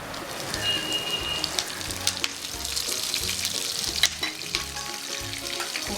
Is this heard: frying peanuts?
yes